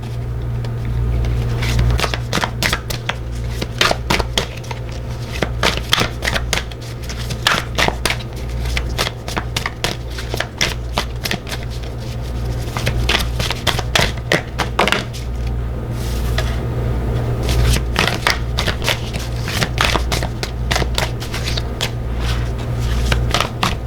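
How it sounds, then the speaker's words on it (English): Tarot cards riffled and shuffled in bursts of rapid papery flicks and slaps, close and fairly loud, continuing in uneven rhythm over a steady low hum. "I'm just going to shuffle and grab some cards out"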